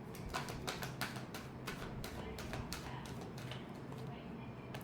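Tarot cards shuffled during a weekly Aquarius horoscope reading, a rapid run of crisp riffling taps close by over a steady low background hum, fading out near the end.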